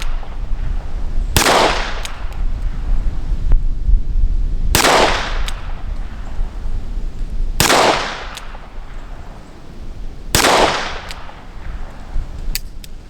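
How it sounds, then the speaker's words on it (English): .38 Special rounds fired from a single-action revolver at a target, four loud, sharp shots spaced about three seconds apart, each with a brief outdoor echo. "So we'll try another load of 38 Special and just see where they hit."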